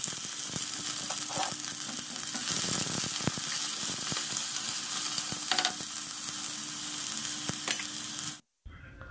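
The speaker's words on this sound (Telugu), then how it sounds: "మనం కట్ చేసుకున్న ఆనియన్స్, పచ్చిమిర్చి వేసుకోవాలి. అవి పచ్చివాసన పోయే వరకు కలుపుకుంటూ వేపుకోవాలండి." Chopped onions and green chillies fry in hot oil, a dense continuous sizzle broken by clacks and scrapes of stirring, close and loud, cutting off abruptly near the end.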